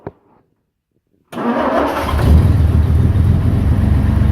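A carbureted 1964 Ford engine cranks and fires into a loud, steady running roar that builds slightly and holds, following a brief click and a second of near silence.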